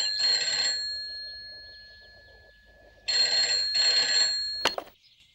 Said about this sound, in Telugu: ముందు ఆ ఫోన్ చూడు.